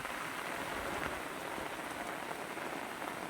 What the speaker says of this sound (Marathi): रात्रीपासून पाऊस पडतात